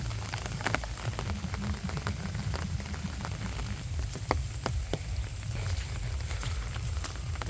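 Steady rain falling on surfaces nearby in a lychee orchard, a dense patter with occasional sharper drips, no voices.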